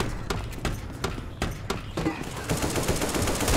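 Loud, close automatic gunfire in the zombie shooter Left 4 Dead 2: repeated sharp shots in quick bursts that merge into dense, continuous firing toward the end, with a faint voice underneath.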